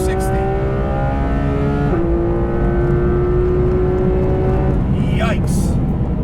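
Porsche 991.2 GT3 RS with a 520-horsepower engine, loud and close, rising in pitch as it revs and accelerates, with a gear change partway through. A steady roar continues throughout, with a brief higher whine near the end.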